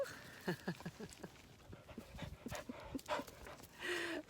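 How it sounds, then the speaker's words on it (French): A dog pants rapidly at close range as it trots up to greet someone outdoors, with quick rhythmic breaths and soft footfalls continuing throughout. "il y a un chien qui vient me voir"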